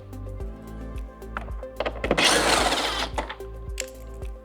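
Power screwdriver or drill backing out screws behind the speaker grill of a 2024-2026 Harley-Davidson Road Glide, a close whirring burst in the middle flanked by clicks and light metallic taps.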